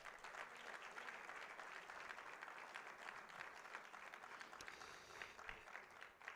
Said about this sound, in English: Give him a big hand clap